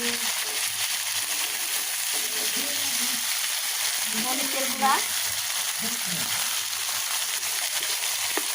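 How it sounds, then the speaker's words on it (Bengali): Tomato paste and ground spices sizzle in a pan, giving a continuous close hiss with a few short stirring scrapes and clinks midway. "টমেটো পেস্ট দিয়ে দিলাম"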